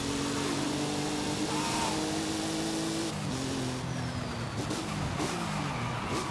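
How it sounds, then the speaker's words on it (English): Supercar in Forza Horizon 5 launching hard off the line in a drag race, a loud sustained engine drone with rising, shifting pitch and some tire squeal, heard alone throughout. "Let's go enter in a drag race and just launch this thing."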